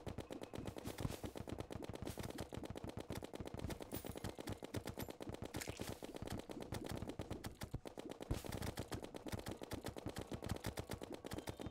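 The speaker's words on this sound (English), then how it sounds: "Please shoot the bat!" Rapid, continuous automatic gunfire from a video game, aimed at a bat, rattles in dense unbroken bursts at close, even loudness.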